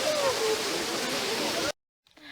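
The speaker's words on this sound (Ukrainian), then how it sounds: "водоспад був." Waterfall in the Ukrainian Carpathians near Hoverla, a loud steady rushing roar of falling water filling most of the moment, then cutting off abruptly into near silence with faint sounds at the end.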